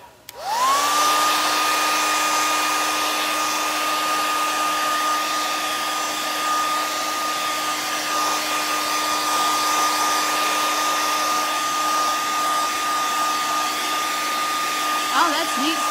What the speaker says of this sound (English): let me get my blow dryer here and let's dry this